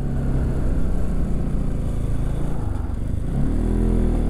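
A motorcycle engine labours and revs continuously as it climbs toward Ghyampe Danda on a partly off-road hillside track, steady and fairly close, with no voices.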